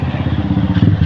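A 150cc motorcycle labors up a very steep road, its mid-pitched engine loud and close with a steady, throbbing drone and some clatter throughout.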